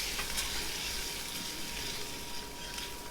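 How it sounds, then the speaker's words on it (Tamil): Boiled eggs toast with masala powder in a pan for an egg biriyani, a steady close-up sizzle with light stirring scrapes and a faint background tone, and no one speaks. "முட்டையை அப்படியே பண்ணுறதை விட இந்த மாதிரி டோஸ்ட் பண்ணும்போது"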